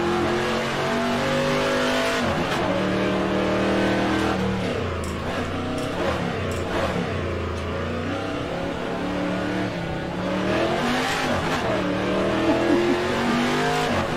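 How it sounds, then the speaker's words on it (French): V8 race car in the rFactor 2 Aussie Legends mod, its engine revving and shifting steadily up and down through the gears, loud and continuous, with brief tyre squeal. "Ah, le bruit de ce V8."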